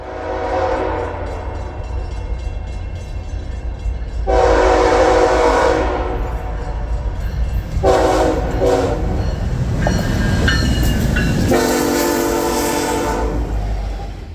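A BNSF freight train rumbles past nearby with a steady low roar and wheel clatter, while its horn sounds in several loud blasts.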